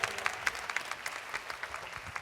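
A small audience claps at a business training meeting in Atlantic City, with scattered, uneven hand claps at a distance, fairly faint and thinning out toward the end.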